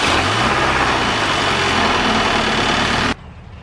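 A Mini Cooper R53 John Cooper Works engine runs right after an idler tensioner replacement, a loud, close, steady idle drone with a low throb that cuts off abruptly near the end.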